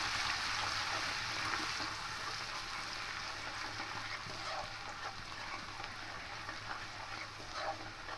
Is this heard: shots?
no